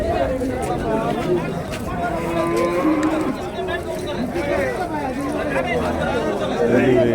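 Javadhu Hills cattle lowing at the Vaniyambadi livestock market amid a busy crowd, with constant chatter and hubbub around several animals; moos rise now and then over the steady noise of people talking.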